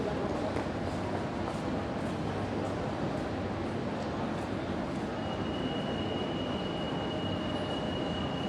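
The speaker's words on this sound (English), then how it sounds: "here's the train." A metro train rumbles loudly and continuously nearby at Àngel Guimerà station in Valencia, wheels clattering, and a thin high squeal rises partway through as it pulls in.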